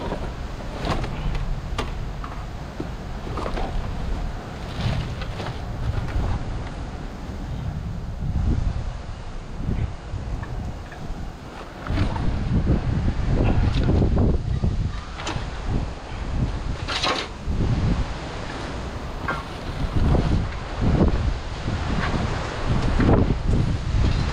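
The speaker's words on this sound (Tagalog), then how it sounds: "Ay, grabe, napakalakas ng hangin." Strong wind gusts buffet the microphone outdoors, a rough, roaring rush that swells and fades in waves for the full stretch, loud and close, with faint rustling underneath.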